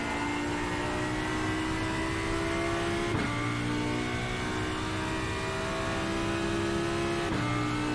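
A GT3 race car engine in the iRacing simulator at Watkins Glen, droning loudly and steadily as it climbs through the revs, with two sharp gear changes briefly dropping the pitch before it rises again.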